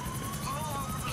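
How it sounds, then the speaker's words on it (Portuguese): Helicopter in Grand Theft Auto online play, a steady pulsing rotor thump with a buzzing whine, heard under a voice talking. "Tem esse helicóptero no GTA V, velho, que bonito"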